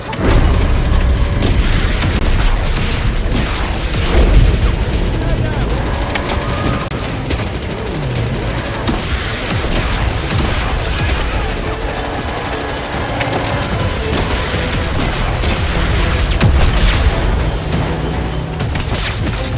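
Missiles launch and explode in the video game 007 First Light: a dense, loud, continuous barrage of booming blasts and rapid gunfire-like bursts with no pauses.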